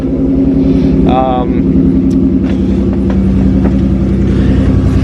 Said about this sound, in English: So we'll let it idle for a little while.